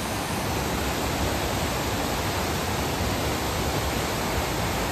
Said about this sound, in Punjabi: ਬੜਾ ਤੇਜ਼ ਪਾਣੀ ਹੈ